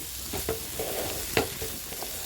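Shredded cabbage paratha filling stirred in a pan while its water cooks off, a steady wet sizzle punctuated by several scraping strokes of the spoon, close and without voices.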